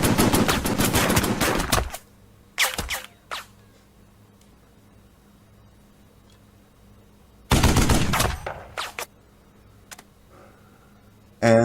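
Two loud, close machine gun bursts in the wartime strategy game Burden of Command, each followed by scattered single shots, separated by quiet stretches with a low hum.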